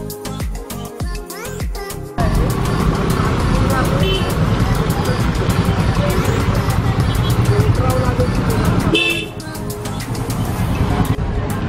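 A car caught deep in a pothole on the Tamhini Ghat road in Maharashtra, its engine roaring steadily and straining loudly for several seconds before the load suddenly drops, with brief sounds of activity at the start.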